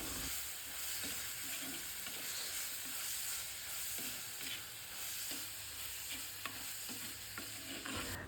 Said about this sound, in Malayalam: സവാള നന്നായിട്ട് വഴറ്റിയെടുക്കണം